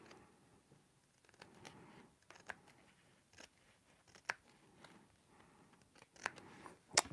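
Scissors snip along the edge of a handmade holiday card, giving a few quiet, scattered cuts with soft paper rustling between them, close and faint, with no talk.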